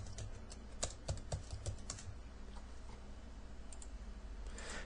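Computer keyboard typing in quick, irregular bursts of sharp clicks, close and clear over a steady low hum, with no voices.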